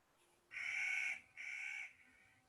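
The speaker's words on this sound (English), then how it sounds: "Do you hear the crows?" Crows caw outdoors in a natural setting with trees, two hoarse drawn-out calls in quick succession, moderately distant over quiet background, without talking.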